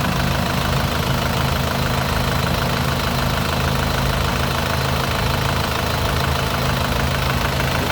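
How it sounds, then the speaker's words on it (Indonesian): A 2006 Isuzu Panther LS engine idles smoothly and loudly for the whole stretch, a steady low rumble with an even mechanical chug and no voices. "Suara mesinnya juga masih halus."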